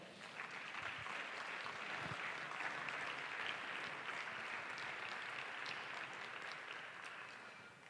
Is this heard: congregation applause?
yes